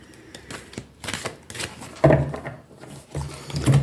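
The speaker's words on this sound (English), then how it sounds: "We're going to do the 3 shuffles here." Brisk riffling and tapping of playing cards being shuffled up close, a few quick bursts with soft knocks between.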